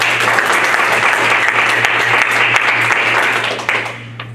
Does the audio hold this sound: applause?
yes